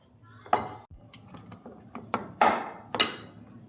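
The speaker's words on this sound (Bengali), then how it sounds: "এবার দেখো অল্প অল্প করে দুধ দিয়ে আমি মেখে নেব।" Pitha dough being kneaded by hand with milk in a bowl: a series of soft, close clinks and knocks of a utensil against the bowl, spaced irregularly and fairly quiet, with no talking.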